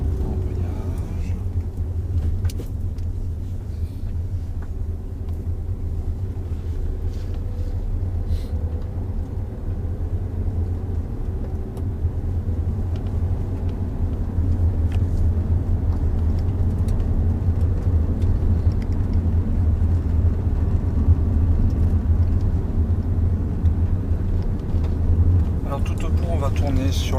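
Car engine rumbling steadily during a driving lesson as the driver eases off the accelerator to shift from first into second gear, a low continuous drone that rises slightly midway, with an instructor talking over it.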